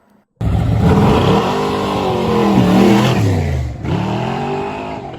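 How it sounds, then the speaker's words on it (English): Kaufman Hemi Pontiac engine in a 1960s gasser drag car starts up abruptly and revs hard, loud and close, with rising and falling engine sweeps, a brief lift-off near the end, then revving again. "Ready for that Kaufman Hemi Pontiac engine?"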